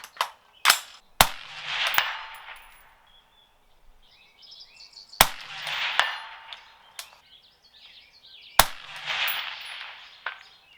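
A suppressed rifle fires at a target 200 yards away on an open range. Sharp, loud cracks come in clusters, separated by quiet gaps, and each leaves a brief ringing tail.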